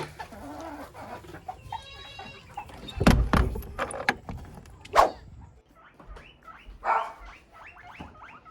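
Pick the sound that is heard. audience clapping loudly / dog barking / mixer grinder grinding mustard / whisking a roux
dog barking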